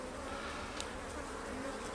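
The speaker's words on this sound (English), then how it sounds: "there's quite a few bees doing waggle dances here" Honeybees buzz steadily in an open hive during a beekeeper's inspection, a close, continuous drone with no speech over it.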